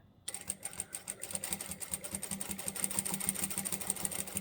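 A sewing machine runs steadily, stitching fabric for a lined child's tote bag with a fast, even mechanical rhythm and a faint high whine, close and continuous after a brief start.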